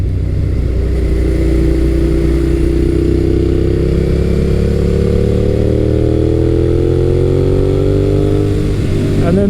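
A 2003-2008 second-generation Suzuki SV650 V-twin motorcycle engine revs up steadily, close and loud, its pitch climbing smoothly over about nine seconds before dropping off abruptly at the end.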